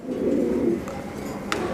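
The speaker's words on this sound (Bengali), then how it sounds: "খুবই সুন্দর কবুতর আছে দুটাই" Soft Lahori pigeon cooing over a low murmuring background, with a couple of faint brief calls toward the end.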